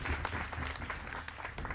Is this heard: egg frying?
no